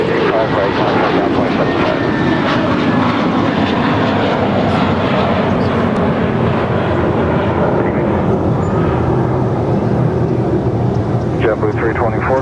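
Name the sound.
airplane at Los Angeles International Airport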